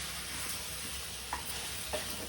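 A tomato curry is stirred in a hot pan under a constant frying hiss, with a couple of soft utensil scrapes. No one speaks.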